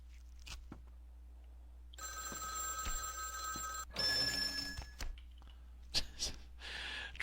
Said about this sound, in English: Here's the clock that kept ringing.